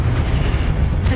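A deep, booming blast from spells in Hogwarts Legacy, one heavy low rumble that fills the short moment with no voices over it.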